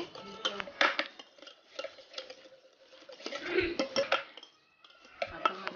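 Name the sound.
butter being beaten with a hand beater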